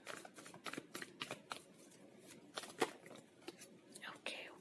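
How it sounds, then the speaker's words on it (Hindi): Tarot cards are picked up and handled at a reading, giving soft rapid riffles, slides and light taps at close range under a quiet whispered voice. "चलिए इसे हम यहाँ रख देते हैं और आइए आपके लिए कार्ड लेते हैं।"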